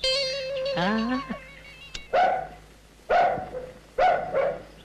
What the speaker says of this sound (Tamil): நாய் தான் குலைக்குது